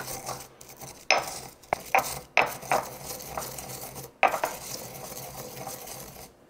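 Home-grown coriander seeds are roughly crushed for a courgette and pepper relish, giving a series of sharp, close clacks and grinding knocks at an irregular rhythm, with no one talking.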